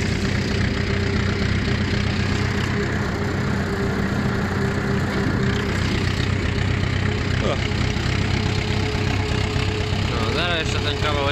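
An Ursus C 360 tractor engine runs at a steady idle throughout, a loud continuous rumble up close, with a brief rattle near the end.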